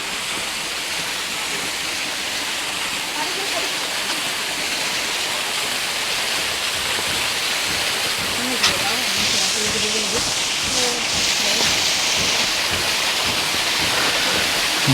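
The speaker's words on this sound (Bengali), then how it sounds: "এই যে ঝর্ণার সামনে এটাই সেই ঝর্ণা" Himchari waterfall pours steadily, a broad, constant rushing hiss that fills the scene at a fairly close distance, with a few faint voices and small knocks surfacing briefly over the roar.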